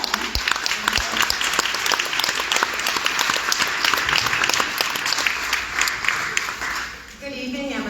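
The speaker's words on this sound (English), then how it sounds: "So let's have a round of applause for them." Audience at a reentry banquet breaks into sustained loud applause, a dense wash of clapping that fades near the end as a voice starts speaking.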